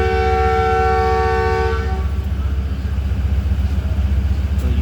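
A train whistle from the 13up Awam Express, hauled by a Tiger ZCUP 30 locomotive, sounds at departure from Lahore Cantt. It is a loud, steady blast lasting about two seconds over a rumbling engine, then the idling rumble continues alone.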